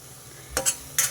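Onion-chili paste stirred in a hot pan: two or three quick scraping strokes with a faint sizzle underneath, close and brief.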